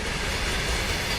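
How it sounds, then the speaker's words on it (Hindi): A coal freight train rolling past a railway crossing, a dense, loud continuous roar of wagons and wheels close by, steady throughout with no speech. "अब ट्रेन जाने वाला है, वो गाड़ी है कोयला वाला।"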